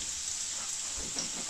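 Chopped onion hitting hot oil with cardamom in a pan, a steady hissing sizzle with faint crackles, close and continuous over a short span, no talk.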